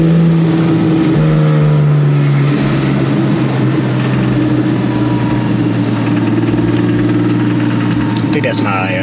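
A Porsche 911 997.1 Carrera S with a newly fitted Fi aftermarket exhaust runs loud and steady, its deep engine drone carrying a suspected clutch rattle through the whole stretch.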